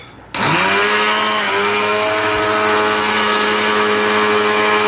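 An electric blender with a steel body starts abruptly and runs at a loud, steady high-speed whine with a strong motor hum, close by and sustained without pause.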